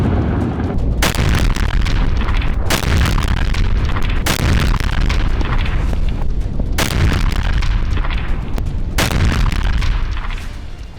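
Heavy blasts from bombing in Gaza boom loudly one after another, several sharp explosions rising out of a continuous, rumbling roar of destruction.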